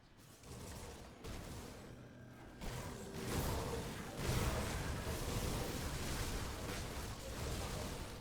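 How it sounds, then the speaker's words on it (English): Explosions in the action RPG Grim Dawn, a dense, continuous barrage of booming blasts and whooshing impacts that builds louder after the first few seconds, with no talking. "Be careful with these explosions."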